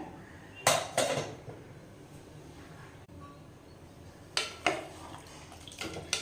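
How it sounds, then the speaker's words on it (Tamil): A pressure cooker is opened in a home kitchen, with a few sharp metallic clanks of the lid and pot, a quiet gap, then another cluster of clatters near the end. "இப்போ வந்து பார்த்திங்கன்னா நான் குக்கர் ஓப்பன் பண்ணிக்கிறேன்"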